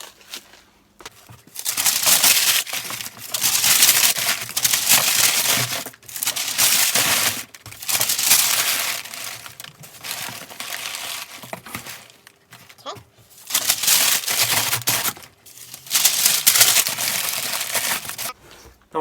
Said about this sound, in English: we will pad this now with newspaper and get that suspended in there